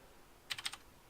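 A short burst of four quick keystrokes on a computer keyboard clicks out close and crisp against a quiet room while numbers are entered into a 3D modelling program.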